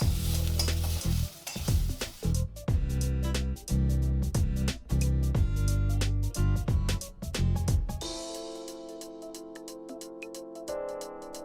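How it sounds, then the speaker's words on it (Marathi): Onion roasts in oil with salt in a pan, a steady close sizzle broken by rhythmic scraping and stirring strokes, with the stirring thinning out near the end. "कांद्यामध्ये मी थोडंसं तेल घातलेले आहे आणि आपण थोडं मीठही घालूया, जेणेकरून लवकर आपला कांदा भाजला जाईल।"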